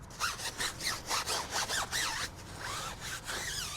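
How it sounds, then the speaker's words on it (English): A stiff bristle brush scrubs a tire sidewall with chemical cleaner, making close, rhythmic back-and-forth rasping strokes, about three per second, steady and moderately loud with no talking. "these stiff bristle brushes here, they're going to do a lot of the heavy lifting as well when it comes to removing that ozonate from the sidewall"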